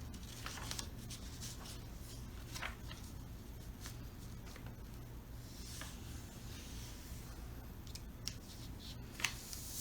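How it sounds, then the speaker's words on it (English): Scissors snip slowly and carefully through folded white paper to make a snowflake, with soft crisp cuts and paper rustles sounding close and quiet over a low hum. "we cut with the scissor, carefully and slowly."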